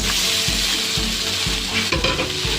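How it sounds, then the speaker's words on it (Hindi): Cooked rice for lemon rice is mixed in a frying pan with a constant loud sizzle, and the spatula knocks against the pan about every half second, close and with no talk. "हमको चावल अच्छे से मिक्स करना है"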